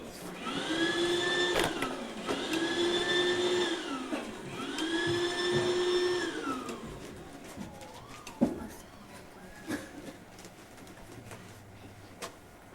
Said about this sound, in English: would suck up all the gifts he could get his grubby, greedy, greasy hands onto